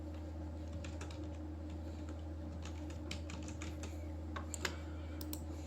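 Computer keyboard typing while a booking form is filled in: quiet, irregular clusters of key taps with short pauses, over a steady low electrical hum.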